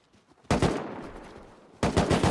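Gunfire in the survival game Rust during a clan battle: a loud burst of automatic shots kicks in after a brief quiet, stays dense and rattling for over a second, then a second close, heavy volley erupts.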